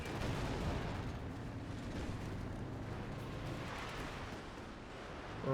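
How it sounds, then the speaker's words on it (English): Katyusha rocket launcher salvo in a 4v4 Second World War strategy game battle, a dense continuous roar of blasts and rumbling booms filling the whole stretch, loud and unbroken. "Katusha rocket launcher. The original MRLS."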